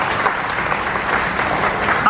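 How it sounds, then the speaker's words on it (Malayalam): Applause from the audience at an RCM network-marketing gathering in Thiruvananthapuram, Kerala: dense, steady clapping from a crowd that fills the whole stretch at an even, loud level, with no voice standing out above it. "നല്ലൊരു കൈയടി നമ്മൾ കൊടുക്കണം."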